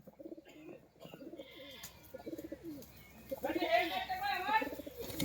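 Pigeons coo faintly in short bursts amid people talking nearby, followed by a brighter stretch of chirping and fluttering.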